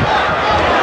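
A boxing crowd roars as Jeff Lacy lands power punches in his fight with Rubin Williams, a dense, loud, continuous wall of arena cheering that stays steady throughout.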